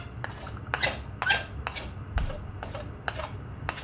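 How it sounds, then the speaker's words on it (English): A wooden stick rubbed in repeated strokes along the edge of a large steel knife to fold over the burr, eight or so rhythmic rasping scrapes, close and clear with nothing else heard. "Since this is a big knife, I'm more comfortable using the stick to fold it."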